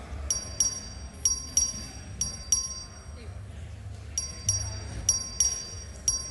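The voting bell in the Texas House chamber rings in repeated short electronic double chimes at a steady rhythm, moderately loud over the murmur of a large room.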